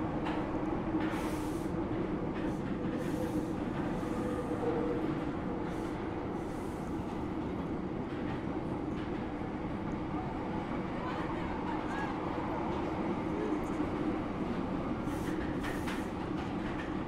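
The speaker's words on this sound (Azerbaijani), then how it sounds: "20:00 Bakı metrosu." A Baku metro train runs with a constant low rumble and rattling wheel noise, close and steady throughout, with faint intermittent clacks and no clear talking.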